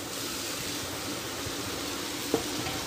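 Okra added to browned onions, frying in a pan with a steady, close sizzle and a single brief clink of stirring, without talk.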